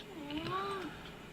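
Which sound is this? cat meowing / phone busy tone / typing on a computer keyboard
cat meowing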